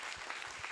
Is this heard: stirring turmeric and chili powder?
no